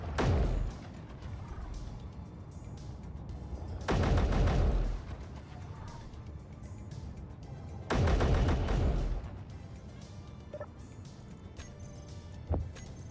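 Gunfire in the modded Space Engineers survival game: three loud, dense bursts of rapid automatic fire about four seconds apart, each lasting under a second. A softer background hum and a single sharp click follow near the end.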